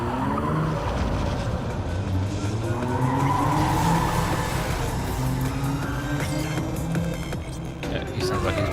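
A car in the video game Cyberpunk 2077 drives hard with loud, continuous engine roar and squealing, skidding tires, and background music plays under it.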